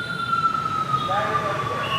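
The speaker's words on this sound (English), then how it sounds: "there's a siren" A siren wails with a steady tone, joined by a second rising tone, over continuous street noise and a low traffic rumble beside a park as a motorcycle parade passes.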